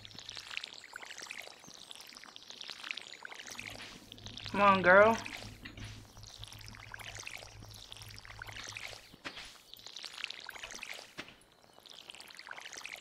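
A watering can pours water over crops in Stardew Valley, giving a short splashing burst in the middle. A person speaks briefly over the game's background music and soft repeated sounds.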